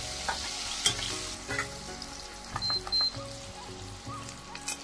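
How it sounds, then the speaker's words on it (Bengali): Cut potatoes with salt and turmeric frying in mustard oil in a pan, a steady sizzle broken by several louder bursts of stirring and scraping, close up with no talking. "দিয়ে দেবো কেটে রাখা আলু, দিয়ে দেবো লবণ, একটু হলুদের গুঁড়ো দিয়ে দিলাম। আর আলুগুলোকে একটু ভেজে নেব।"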